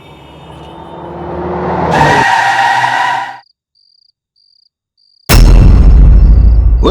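A vehicle on a highway brakes hard and jerkily, engine and tire noise building to a harsh peak, cutting to near silence with a faint beeping, then bursting back loud.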